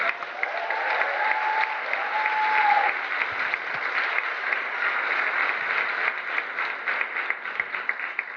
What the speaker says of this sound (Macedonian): веднаш еден голем аплауз за сите нив